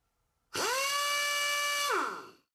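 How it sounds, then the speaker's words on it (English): A pneumatic impact wrench, run off a Kobalt Quiet Tech 26-gallon air compressor, spins up to a steady high-pitched whine for about a second and a half, then winds down and fades, heard alone and close. "Notice the higher pitch of the wrench because of the higher speed it's operating at."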